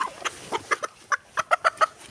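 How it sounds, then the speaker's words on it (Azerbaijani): Japanese bantam chicken clucking in a run of short, quick, moderately close clucks with brief gaps, alone with no talk. "Daha bir yaponkamız var."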